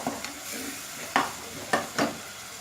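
A low, steady sizzle comes from ginger and garlic frying in a pan. A few crisp scrapes and knocks of a spoon stirring the pan stand out over it, close by with no voices.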